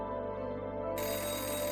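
Telephone ringing unanswered on a call to customer care, a steady electronic ring tone with a continuous hum that brightens partway through, heard alone without talking.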